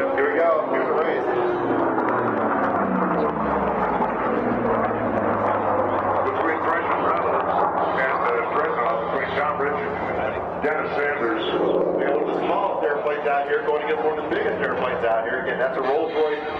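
Unlimited-class racing planes roar past at the Reno air races, among them a Rolls-Royce Griffon–powered racer and one with a 4360 radial engine, a steady loud engine drone under continuous commentary.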